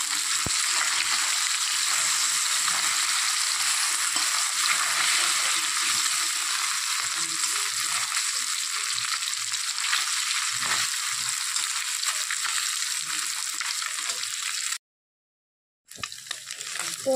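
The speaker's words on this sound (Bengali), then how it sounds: "এখানে একটু হালকা করে ভেজে নেব, বেশি কড়া ভাজবো না।" Small fish frying lightly in a pan for a Bengali chorchori, a steady dense sizzle with some stirring running close and loud throughout, broken by a brief silent gap near the end.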